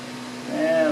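A polishing machine set to speed 5 buffs the paint of a Jeep TJ with a dry pad, a close, steady motor whine that rises slightly in pitch and loudness.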